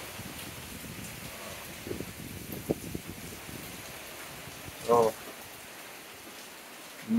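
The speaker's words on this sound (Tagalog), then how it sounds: "Lakas ng ulan." Heavy storm rain hisses steadily in the background, faint and continuous, with scattered louder drops and a voice speaking briefly.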